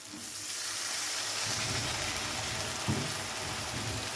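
Oil with onion and spice paste sizzling and frying steadily in a pan as a little water goes in, producing a continuous hiss with a brief louder burst partway through; no voices.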